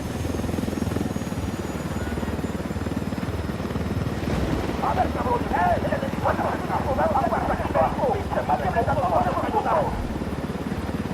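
Helicopter in the video game Ghost Recon Wildlands, a steady rotor drone running throughout at moderate loudness, with voices talking over it in the second half.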